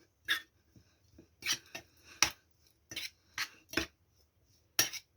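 Pie filling of greens being mixed with a utensil in a bowl, giving a series of irregular clinking and scraping knocks, close and fairly clear, with short pauses between them and no talk.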